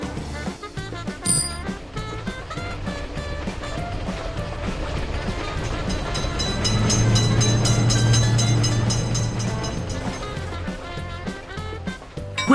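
Wagons clatter over a road-vehicle railroad crossing as a train runs through, a loud continuous rumble with rhythmic clickety-clack that builds past the midpoint and stays heavy to the end.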